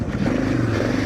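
A brand-new 2025 Suzuki DR650 motorcycle engine drones close and loud during a ride, a short steady burst of rough engine roar with no talk.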